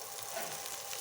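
Garlic leaves frying in a little oil make a faint, steady crackling sizzle throughout, close and with no talk over it.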